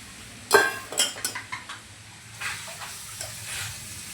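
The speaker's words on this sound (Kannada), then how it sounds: "ಒಗ್ಗರಣೆ ರೆಡಿಯಾಗಿದೆ, ಅದನ್ನು ತಗೊಂಬಂದು ಒಗ್ಗರಣೆಗೆ ಹಾಕ್ತಾರೆ" Tempering tipped into a pan of pasta gives a sharp clatter of a pot and utensils, a few clinks in quick succession, then a low, steady frying sizzle that fades under faint scraping.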